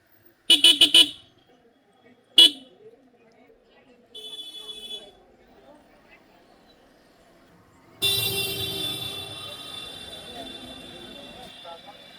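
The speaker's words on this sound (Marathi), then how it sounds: "परत ट्रॅफिक जाम आमकां मेळ्ळेले आसा." Several sharp horn toots in short bursts, then a steady wash of traffic noise and engines with more faint honks behind it, in a New Year's Eve traffic jam at Calangute, Goa.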